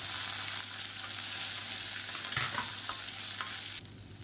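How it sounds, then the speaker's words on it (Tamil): Chopped shallots fry in hot oil with cumin, chillies and curry leaves in a pan, a loud, steady close-up sizzle with stirring scrapes, no talking, easing off slightly at the end. "இப்போ இதில் பொடியாக நறுக்குன சின்ன வெங்காயம் ஒரு கைப்பிடி சேர்த்துக்கலாம்."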